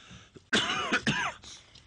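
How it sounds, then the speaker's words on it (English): A single harsh cough bursts out, followed quickly by a second rough cough, close and loud, with quiet room tone before and after. "Please excuse this cough"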